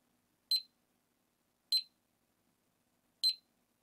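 An LED DIY clock kit gives three short, bright electronic beeps spaced evenly about every second and a half, clean and alone against silence.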